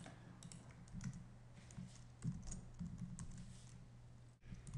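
Fingers type on a computer keyboard in steady bursts of soft clicks, close and faint over a low hum, with no talking.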